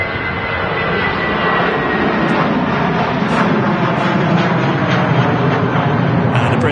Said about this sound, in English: And the British Airways shuttle 3 Romeo heading back to London Heathrow this morning. Wheels up.